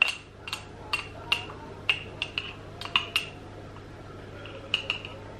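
A spoon clinks and taps sharply against a bowl, about a dozen light, irregular strikes, while a tablespoon of dark cacao powder goes into banana bread batter for chocolate chip banana bread; close and fairly quiet.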